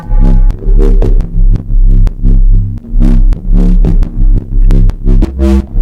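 Synth in Ableton with a distortion effect, sounding as loud, gritty rhythmic pulses with a heavy low end, repeating roughly every half second and close up, with no voices.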